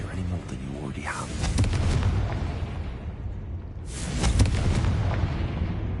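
Fiery Confringo spell blasts in a Harry Potter video game, two heavy booming bursts with rumbling low end, separated by a few seconds, while a voice talks over the first.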